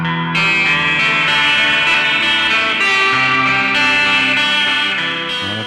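A clean electric guitar rings out with a shimmering chorus and spacious reverb, chords sustaining and overlapping throughout, with no talking.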